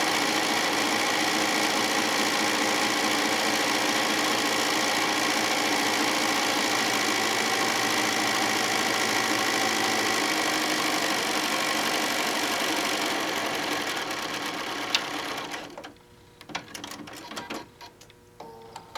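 A sewing machine runs steadily, buzzing as it top stitches down the side of a tote bag handle, close and loud, then stops near the end, followed by a few quiet clicks and handling sounds.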